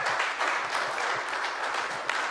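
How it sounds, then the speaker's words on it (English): Brief, thin applause from a small church audience, a few scattered hands clapping steadily for about two seconds, no voices over it. "Thank you for the 4 people who clapped"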